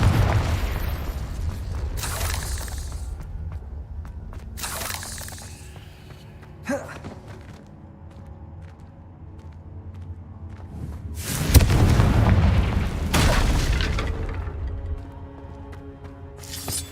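The Confringo spell in Hogwarts Legacy goes off in several sharp blasts with crackling bursts, spaced apart by quieter game ambience, with a large double explosion near the end.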